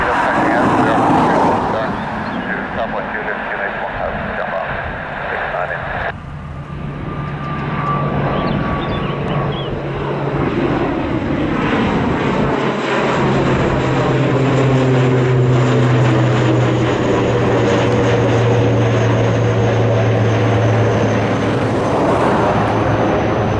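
Airliner engines at Dublin Airport roar loud and near, then sweep past in a long, rising and falling whine that holds steady as the aircraft moves away.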